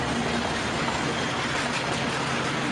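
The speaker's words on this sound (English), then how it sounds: "I think few have seen such a smoky train in real." A smoky train runs along a railway, producing a continuous dense rumble and rattle that stays loud and steady with no voices.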